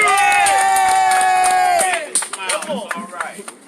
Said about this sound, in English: Clap it up for Diamond Brown.